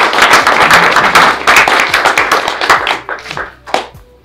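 Applause from a small audience at an audio enthusiasts' club meeting, close and loud dense clapping that thins into a few scattered individual claps before dying away.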